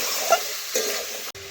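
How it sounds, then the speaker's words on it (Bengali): A spatula stirring vegetables with salt, turmeric, coriander and chili powder in a hot pan, a steady close sizzle with a couple of soft scraping strokes and no talking. "এখন ভালোভাবে খুরপি দিয়ে নাড়াচাড়া করে আমি মিশিয়ে নিচ্ছি সবজির সাথে"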